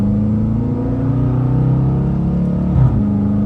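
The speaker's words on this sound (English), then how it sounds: "upshifting to second" Car engine pulling in second gear after a paddle upshift, a loud steady low drone with a slight rising pitch and a brief bump near the end, no voices.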